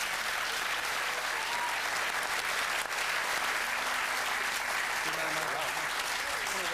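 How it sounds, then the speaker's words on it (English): A studio audience applauds for a performer with a dense, continuous wash of clapping, loud and sustained, with a few indistinct voices mixed into the crowd. "let's send a big round of applause for Michael."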